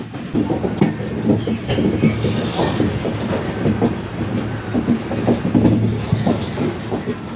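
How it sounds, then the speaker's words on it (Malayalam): An Indian passenger train rolls into Ernakulam Town railway station in Kerala, wheels clattering over rail joints in a steady, loud rhythm of repeated clacks over a low rumble. "അങ്ങനെ നമ്മുടെ ട്രെയിൻ എറണാകുളം ടൗൺ റെയിൽവേ സ്റ്റേഷനിലേക്ക് കയറിയിരിക്കുകയാണ്"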